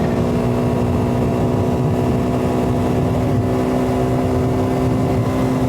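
A KTM 390 Duke motorcycle rides over gravel, its engine holding a steady, close drone with a rough low rumble and constant road noise throughout, and no talking.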